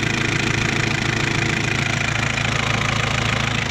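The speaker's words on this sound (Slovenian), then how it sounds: "Tlele noter je pa Perkinsov motor," A Perkins diesel engine in a Clark CDP 30 forklift runs at a steady idle, loud and close, with a continuous rough knocking rumble and no pauses.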